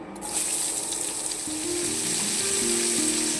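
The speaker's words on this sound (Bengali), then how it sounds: "এবার একটু তেল দিয়ে দিচ্ছি আমি মাংসটা ভাজার জন্য" Cooking oil heats in a pan before meat is fried for mixed fried rice, giving a steady close hiss and sizzle with a faint tonal hum beneath.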